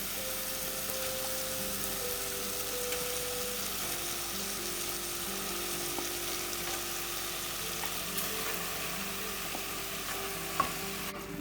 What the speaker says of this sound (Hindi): कीमे की अब हमने भुनाई करनी है।